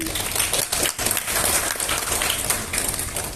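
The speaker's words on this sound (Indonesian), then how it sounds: "Ini tepuk tangan untuk teman-teman." Audience applause at an Indonesian business presentation, a dense, steady wash of many hands clapping at close range that carries on without a break.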